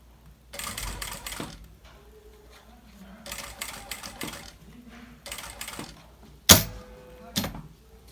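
An industrial sewing machine stitches bias tape in several separate bursts of rapid mechanical chatter, with quiet pauses between runs while the presser foot is lifted and the fabric adjusted, plus a sharp clack near the end.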